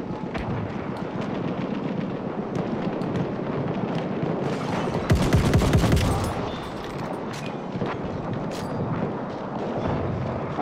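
Dense, sustained gunfire in Battlefield 1, a Selbstlader 1906 self-loading rifle among rapid overlapping shots and booming blasts, a chaotic battle soundscape with no pauses.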